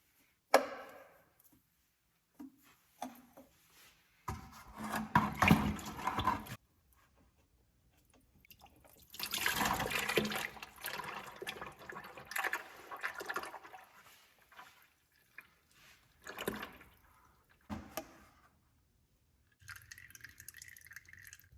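Oil drains from the plug of a Massey Harris Challenger tractor into a 5-gallon bucket, heard as faint intermittent splashing and trickling bursts with quiet gaps between them.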